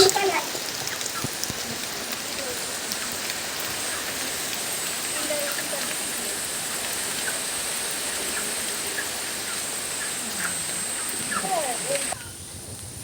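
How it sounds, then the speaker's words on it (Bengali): Steady rain falling in a dense, even hiss that fills the scene close by for most of the clip, with occasional faint voices underneath, then easing slightly near the end. "বৃষ্টি হয়ে গেল"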